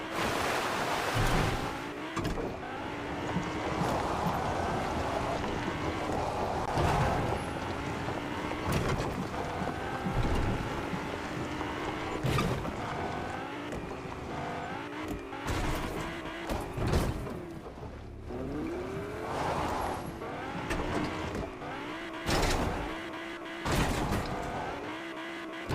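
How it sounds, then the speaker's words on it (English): A Lamborghini driven in the Fortnite video game roars steadily with shifting engine pitch, joined by skids, passing vehicles and sharp impact bursts throughout a long, loud stretch of gameplay. "He just drove by another truck. Good thing he's in a Lambo."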